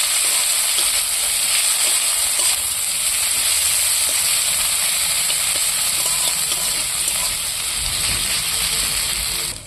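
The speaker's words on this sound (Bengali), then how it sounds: "আদা রসুন বাটাটাও দিয়ে দিই এবার আমি একটু কষিয়ে নিচ্ছি" Onion with ginger-garlic paste fries in a pan for a village-style prawn biryani, giving a loud, steady hiss and sizzle that runs unbroken throughout, with no talking.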